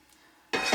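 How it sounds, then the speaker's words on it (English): Cast iron pan pulled from a hot oven, near silence and then a sudden loud scraping, rattling burst of metal at the end, close by. "There's a cast iron pan in here, so let me get that out."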